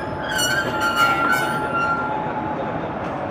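The Archana Express passenger train runs on the rails after leaving Kashi station in Varanasi, a steady loud rolling rumble with high wheel squeals and screeching overtones, close up with no talk.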